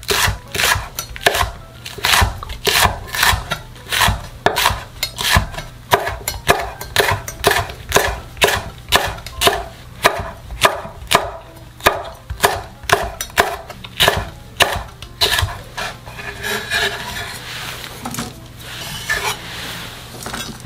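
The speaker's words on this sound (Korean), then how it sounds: "청양고추도 어슷어슷하게 잘라주고요" A knife slices cheongyang chili peppers diagonally on a cutting board, a steady run of crisp, evenly spaced chops close by, quickening slightly before trailing off into softer scraping near the end.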